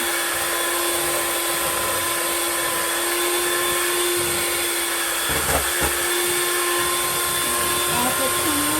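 An electric mixer runs at high speed, beating a hot mixture in a home kitchen, a loud continuous whine that stays steady throughout, with a few brief knocks partway through.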